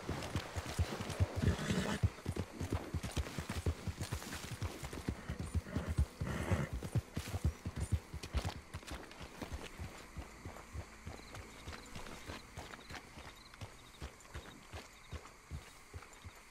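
Horse hooves clip-clop in Red Dead Redemption 2, a quick, steady run of close, distinct hoofbeats that stays busy throughout and eases slightly toward the end, with faint game ambience behind.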